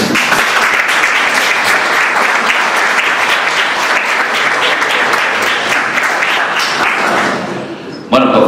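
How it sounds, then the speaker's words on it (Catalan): A conference audience in Mataró claps for Enrique Bonamusa, loud and dense, sustained for several seconds before tapering off and a final thump. "I demano un aplaudiment per Enrique Bonamusa."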